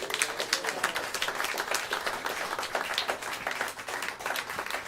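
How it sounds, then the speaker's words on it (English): An audience at a First Friday event breaks into steady applause, a dense patter of many hands clapping at moderate distance for several seconds without speech. "Let's give him a round of applause."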